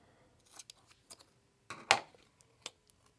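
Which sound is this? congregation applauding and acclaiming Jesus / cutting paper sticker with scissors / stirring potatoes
cutting paper sticker with scissors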